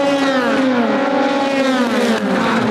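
Endurance race cars at Copse corner scream past loudly, high-revving engines with sliding pitch as several cars run close together, with a quick gear change near the end.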